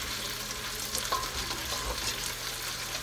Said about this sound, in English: Just slowly just whisk it.